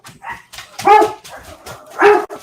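A dog indoors barks at the wind, giving several close, loud barks with quieter yips and whimpers between them, and no talking.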